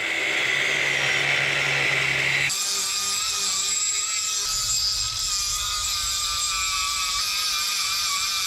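A power grinder whines steadily as it grinds chrome plating off a '57 car part. The tone shifts abruptly a couple of seconds in, then keeps up a loud, continuous rasping drone, with no talking.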